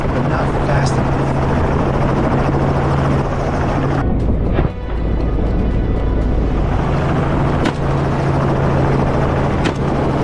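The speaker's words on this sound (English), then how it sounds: "The helicopter dropped, sweeping over every patch of cover." A helicopter flies low overhead during a hunt over California farmland, its rotor roar loud and close and constant, with a brief dip midway before the heavy throb returns.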